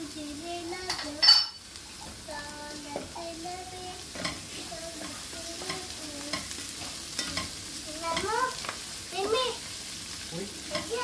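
Bell peppers and minced meat sear in a pan with a steady sizzle, broken by repeated scraping stirs and utensil clinks against the pan, plus one sharp louder knock near the start.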